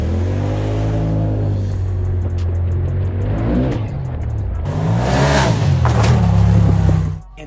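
A 2021 Polaris RZR Turbo S side-by-side, bone stock, runs under load with a loud close engine drone and turbo whine. It climbs in pitch, eases off briefly, then surges harder before cutting off at the end.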